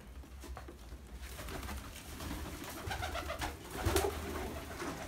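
Many pigeons cooing together inside a new loft, a soft continuous chorus of low throaty coos and wing flutters, fairly close and steady with no talking.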